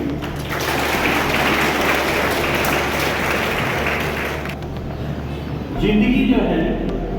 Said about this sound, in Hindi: आप अपने लिए 2 बार ताली बजाइए